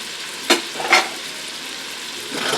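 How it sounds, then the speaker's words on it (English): Leeks sizzle in melted butter in a pot, with a steady low frying hiss broken by two sharper stirring scrapes near the start and a faint rise at the end. "Then put them in here with the butter."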